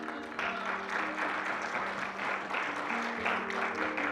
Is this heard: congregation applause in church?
yes